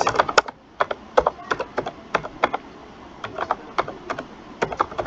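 Typing on a computer keyboard, quick irregular clusters of crisp key clicks with short pauses between bursts, close up and alone.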